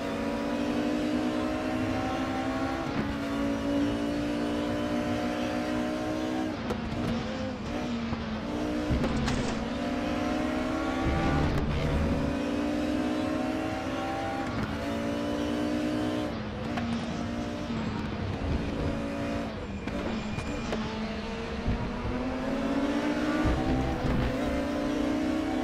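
Race car engines in the RaceRoom racing game roar and rev continuously and loudly for the whole stretch, with pitch rising and falling through gear changes, no talking.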